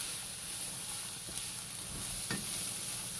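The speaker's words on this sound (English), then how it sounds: "Just kind of stir it around." Celery sizzles in a pan while being stirred, a steady close frying hiss with a few faint scraping taps from the utensil.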